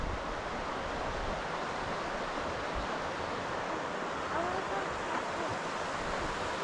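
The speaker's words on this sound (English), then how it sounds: "There's a little creek running through here pretty rapidly." A mountain creek runs rapidly, giving a steady broadband rush of flowing water throughout, close and continuous with no clear speech.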